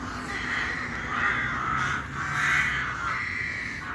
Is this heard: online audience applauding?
no